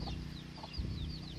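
Clucks and short calls from an İspenç breed rooster kept in a small coop, steady and close amid a continuous noisy background, without a full crow clearly showing.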